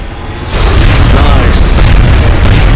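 A rocket shot explodes in the video game XCOM Enemy Within, a sudden heavy boom that swells into a loud, sustained rumbling blast.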